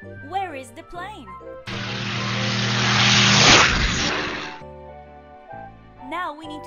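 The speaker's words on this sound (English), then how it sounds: "Where is the plane?" A propeller airplane engine drones for about three seconds, swelling to a loud peak and then cutting off, set between stretches of bright children's music.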